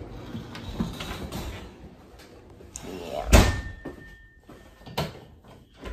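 A back door of a room in a house opens with a single sharp clunk midway, followed by softer knocks and shuffles in a quiet indoor space.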